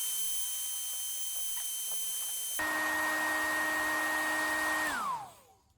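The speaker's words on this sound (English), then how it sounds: "hairdryer." A hairdryer blows with a steady whine, switches to a louder, higher setting midway, then winds down as it shuts off, in a workshop during a Land Rover V8 engine build.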